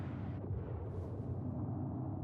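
A spaceship blows up in Star Citizen amid a ship battle, heard as a sustained low rumbling blast with a brief burst, steady and fairly loud throughout, no talking.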